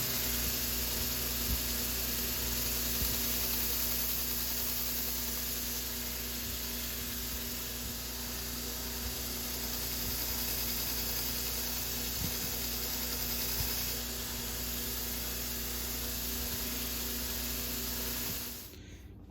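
A belt grinder with a fine grit belt refreshes a knife edge, giving a continuous, steady motor hum and belt hiss that holds for nearly twenty seconds before winding down, with no talking.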